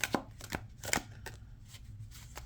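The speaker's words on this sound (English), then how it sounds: "We've got ourselves a hand over hand here. So shuffling is doing great." Tarot cards are shuffled hand over hand at close range, producing a quick series of sharp papery slaps and riffles, about eight distinct bursts over a couple of seconds, with no voices.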